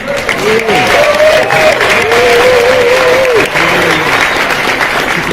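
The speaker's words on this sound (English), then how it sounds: "You can give applause, it's fine." Applause from an audience at a summit in Dubai, a steady wash of clapping with a presenter's voice talking over it nearly the whole time.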